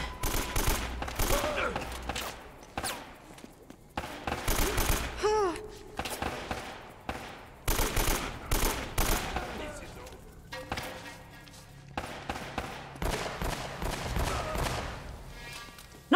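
Gunfire in the video game Uncharted: Drake's Fortune, with repeated bursts of automatic shots and single cracks coming in uneven clusters. Music and other game sounds play between the shots.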